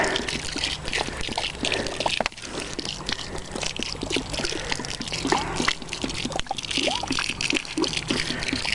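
Water poured to rinse out high nitrogen liquid fertilizer onto compost, producing a continuous loud trickling, splashing pour throughout with a little voice underneath.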